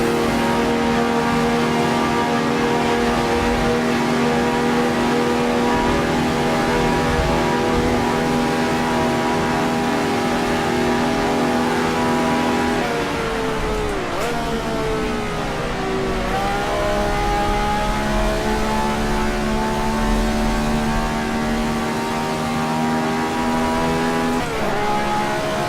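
A Ferrari 312/67 racing car lapping Historic Monza in Assetto Corsa, its engine holding a loud steady high-pitched drone, dipping briefly as it shifts down around the midpoint and climbing again, alone throughout.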